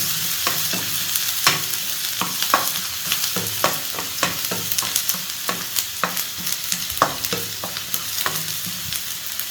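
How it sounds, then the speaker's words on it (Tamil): Onions sautéing lightly in a pan for chicken fried rice, a constant close sizzle broken by sharp clicks and scrapes of a spoon stirring, no voices. "வெங்காயம் வந்து ரொம்ப வதங்கக்கூடாது, லைட்டாக வதங்கினா போதும்"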